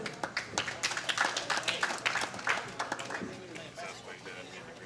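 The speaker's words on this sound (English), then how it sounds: "Give these ladies a huge round of applause." At a women's professional bowling tournament, spectators applaud the players with a dense patter of clapping that swells and then slowly thins, while a commentator talks over it.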